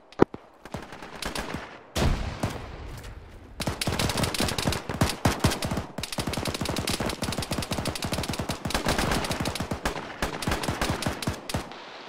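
Sustained automatic gunfire and scattered shots from a military tactics video game (ShackTac Arma), with dense rapid bursts nearly continuous through most of the stretch, loud and close, after a brief quieter opening.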